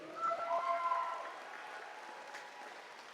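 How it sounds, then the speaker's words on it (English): Audience applauding candidates at a Navajo Nation presidential forum at Navajo Technical University, a short burst of clapping that peaks early and fades into soft scattered claps. "let's give another round of applause to all our candidates here."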